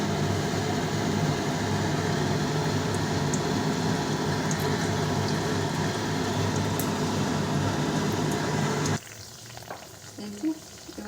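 Stuffed dal kachori sizzle loudly in hot oil, a steady dense crackle and bubble that runs unbroken for about nine seconds and then drops away to faint kitchen noise and a few light clinks.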